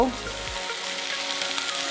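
Small chillies sizzling in hot oil as a tempering for spinach and raw tamarind dal, a strong fizzing crackle that begins at full loudness and then settles into a steady sizzle.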